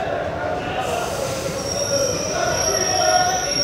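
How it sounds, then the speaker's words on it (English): A passenger train rolls steadily past close by at a station platform, with a continuous metallic wheel squeal and rumble that builds slightly toward the end. "It looks like some passenger train."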